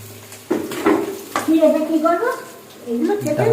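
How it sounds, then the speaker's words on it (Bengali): Fish fries in a pan with a crackling sizzle and a few clattering stirs near the start, and a voice talks over the cooking for most of the clip. "মাছ ভাজা শুরু হয়ে গেছে"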